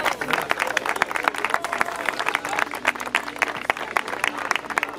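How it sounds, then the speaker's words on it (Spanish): Audience applause at a falconry competition podium in Sierra de Yeguas, Andalusia, a dense patter of many hands clapping steadily throughout, with a murmur of crowd noise underneath. "Fuerte aplauso para ustedes."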